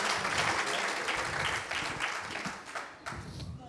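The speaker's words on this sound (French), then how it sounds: "Applaudissements encore, s'il vous plaît, pour Philippe, David, Damien et Gilles." Audience applause at a company jubilee for the Minoterie Bourseau flour mill, a dense, steady wash of many hands clapping that holds for several seconds in a room.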